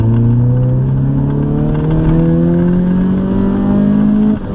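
A car engine revs upward in a smooth rising whine, pitch climbing steadily through the gears before easing off at the end.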